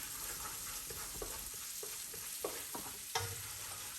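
Tomato paste fries quietly in a pan, a faint steady sizzle with soft, irregular stirring clicks and scrapes, and no voices.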